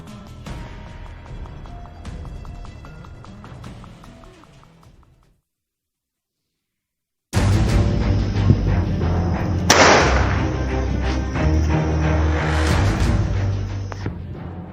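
Pistol shots fired by two minors on a school campus ground, loud sharp cracks in a busy stretch that follows a quieter passage and a brief silence.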